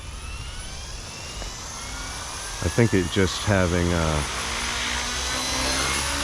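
A radio-controlled helicopter flies outdoors, its high turbine-like whine and rotor noise running steadily as someone speaks briefly over it midway.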